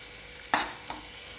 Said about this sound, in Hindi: इसको हम चलाते रहेंगे